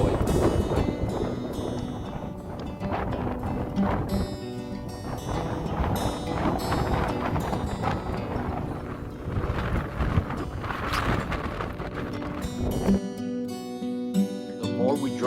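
Strong wind buffets a moving vehicle on a drive through the Rockies between El Paso, Texas and Pinion, New Mexico, a constant loud roar and rumble that thins out near the end.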